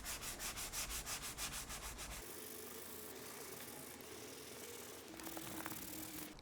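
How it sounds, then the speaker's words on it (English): Sanding a worn leather seat bolster on a BMW E46 325i Touring, starting with a rapid rhythmic back-and-forth scrubbing, then shifting to a steady continuous rubbing hiss, close and clear with no talk. "I can start sanding the bolster."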